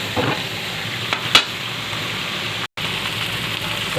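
Broth goes into a hot pan of sautéed pancit ingredients, giving a loud, steady sizzle close up with a couple of faint clinks, then one abrupt cut to silence before the frying hiss carries on.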